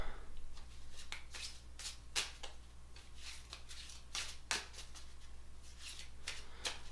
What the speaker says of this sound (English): Now we will take these 5 and we will shuffle them up.